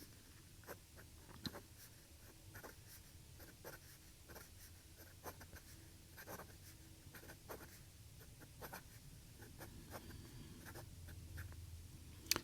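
A Hongdian C1 fountain pen nib moves over paper in a steady scratchy writing sound, with short repeated strokes and pauses, close and fairly quiet, and no voices.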